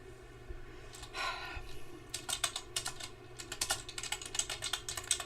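Rapid typing on a computer keyboard, a dense run of close, crisp key clicks that builds after a softer opening breath, over a low steady room hum.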